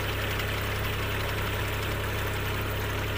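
A rice transplanter (nadavu machine) idles its engine close by, giving a steady, loud mechanical chug with a constant low vibrating rumble and no pauses.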